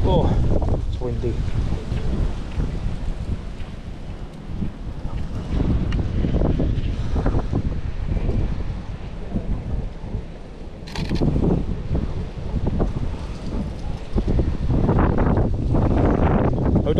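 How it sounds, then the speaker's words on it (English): Steady wind blustering outdoors on a street near a football stadium, loud and continuous with gusty surges, buffeting the microphone throughout. "Oh, it's windy."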